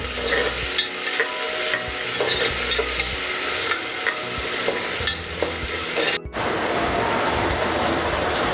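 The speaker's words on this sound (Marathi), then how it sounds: "आणि तो कांदा घालणार। त्याचबरोबर थोडीशी कांद्याची पात, स्प्रिंग ऑनियन, आणि हे छान परतूया।" Chopped onion and spring onion sizzle loudly in hot oil while being stirred, a dense continuous crackle with scraping and shuffling strokes, close and dominant, with a brief dropout near the end before the frying resumes.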